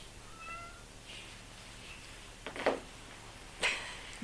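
A cat meows a few times, short faint cries spaced apart in a quiet room with low background hum.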